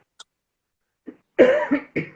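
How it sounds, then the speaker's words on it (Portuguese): A person coughs close up, a small cough followed by a harsh burst of three or four quick coughs in succession. "eu tô com tosse. Só uma tossinha alérgica"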